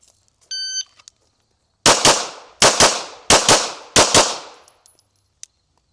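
A pistol fires four quick pairs of loud, sharp shots, each pair split by a short pause for reset, close and echoing slightly, after a brief electronic beep at the start.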